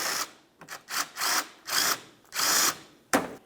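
A power tool whirs in short repeated bursts, about six spurts of spinning, while removing 10mm bolts from under the front bumper of a 2002-2005 Ford Explorer.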